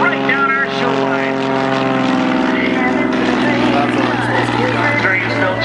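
A 260-horsepower, 540 cubic inch aerobatic airplane engine during an 8-point hesitation roll along an air show line, loud and droning. Its pitch shifts as it powers up, with an announcer talking over it.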